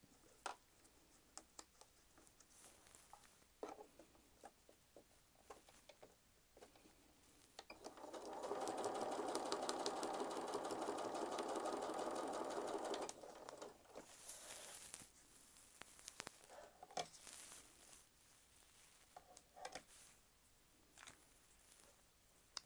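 Sewing machine stitching a quilt block seam, a steady loud mechanical whir running for about five seconds in the middle, framed by quieter handling rustles and small ticks before and after.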